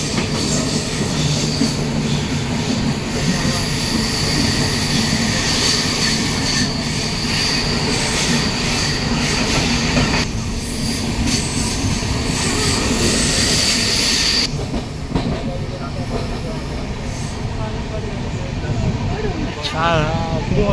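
A train runs high along a mountain ghat, a loud continuous rumble and clatter of wheels with sharp metallic squeals, heard close throughout with people talking over it.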